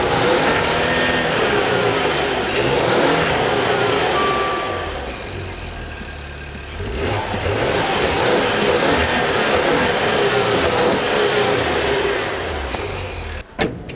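Maserati Quattroporte S Q4 engine running loud and close, a deep sustained roar that dips briefly then swells again with revving, ending in a short sharp blip, no voices over it.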